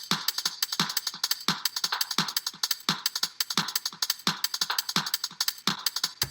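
A drum and bass topper loop plays alone: a fast, bright breakbeat of crisp hi-hats and snappy snares in a driving, repeating rhythm with little low end.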